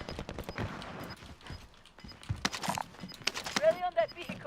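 Gunfire in a multiplayer shooter game, bursts of rapid shots and scattered single cracks at mid distance, mixed with game sound effects under the players' talk.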